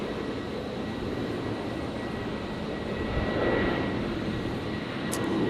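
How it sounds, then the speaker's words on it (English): A Qantas airliner on its takeoff roll at Brisbane airport, a steady rushing jet engine roar that swells slightly midway and near the end, heard from a distance with no talk. "555, just about to rotate. Heading down to Sydney."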